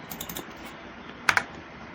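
Computer keyboard keys pressed for a Ctrl D shortcut in a spreadsheet: light scattered taps early, then two sharp close clicks in quick succession.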